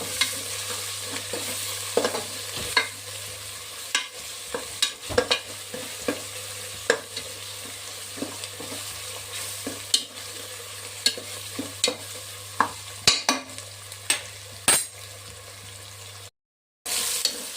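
Tomatoes with a little salt fry in a pan for mushroom biryani, a steady sizzle broken by regular sharp scrapes and clacks of a spoon stirring, close and loud with no talk.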